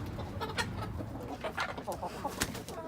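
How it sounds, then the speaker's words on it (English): Chickens cluck and murmur close by in a busy coop, with scattered bird calls and rustling throughout. "we got all the chickens in here now."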